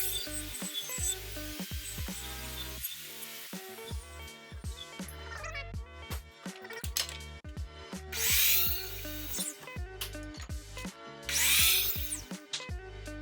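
A power saw freehand-cuts a notch into window trim with the fence opened wide, giving repeated short buzzing cuts and scraping passes close by, with brief louder whines.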